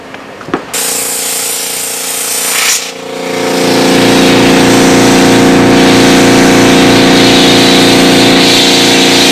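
A pump inflates a patched bicycle inner tube. After a brief clatter, a loud, steady mechanical drone builds and holds, with a faint rhythmic pulsing beneath it.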